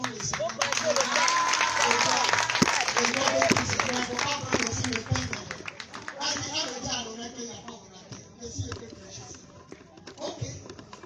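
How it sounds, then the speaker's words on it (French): A church congregation at an evangelistic crusade in Cocody bursts into loud, sustained applause and cheering, dense clapping filling the hall, with voices mixed in, then thinning out toward the end. "Acclamons le Seigneur."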